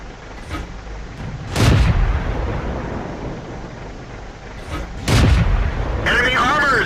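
Two heavy tank cannon shots boom out a few seconds apart in World of Tanks, each a loud blast that fades into rumble, with a voice talking near the end.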